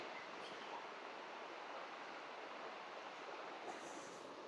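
A forest stream on the Chinthapalli–Sileru road, fed by water flowing down from the hills, gives off a steady, dense rushing hiss that holds unchanged throughout.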